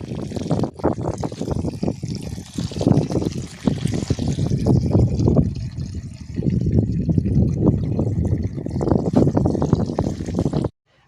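Rose petals are swished and rinsed in water, with close splashing, trickling and sloshing that runs almost continuously for about ten seconds before stopping abruptly.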